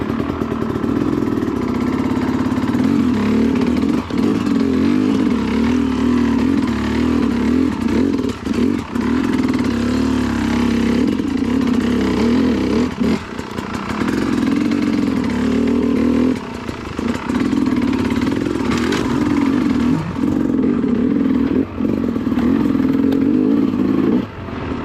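An enduro motorcycle rides and revs continuously on an off-road extreme enduro course, its engine loud and close throughout with rising and falling throttle and occasional clattering.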